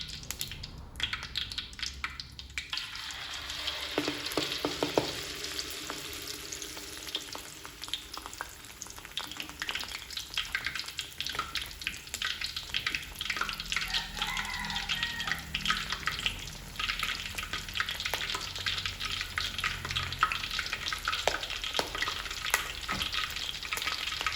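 Shrimp in batter frying in hot oil, a steady dense sizzle with crackling pops and occasional stirring, close and continuous without any talk.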